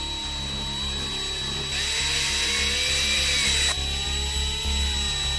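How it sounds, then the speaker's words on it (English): A handheld battery drill, not a drill press, whines steadily, its pitch rising as it bites in for a couple of seconds, then easing back to a lower hum. "I'm not using a drill press, I'm using a standard drill"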